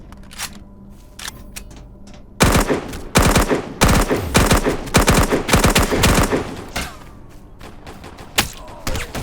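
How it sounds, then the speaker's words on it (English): Sniper gunfire in the video game Dysterra, a loud burst of sharp shots starting a couple of seconds in after a quieter stretch, followed by repeated cracks and thuds continuing through the rest of the clip. "Watch out! A hidden sniper is after you."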